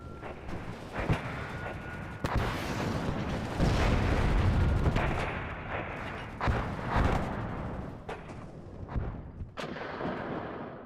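Artillery bombardment in the war strategy game WARNO: a rolling barrage of deep booms and sharp blasts, some close and heavy, others distant, overlapping continuously with no talk.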